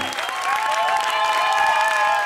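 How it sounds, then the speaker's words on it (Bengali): Cartoon applause rings out loudly for the contestant Lullu, a short burst of crowd clapping blended with a bright sustained musical tone. "লুল্লুর জন্য একটা জোরে হাততালি হোক।"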